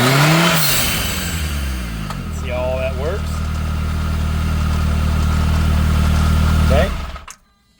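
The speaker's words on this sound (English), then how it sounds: "So we'll rev it up a couple times, good little revs." A Kawasaki Teryx side-by-side UTV engine, fitted with a new clutch, revs up sharply a couple of times, then settles into a steady loud idle before cutting off.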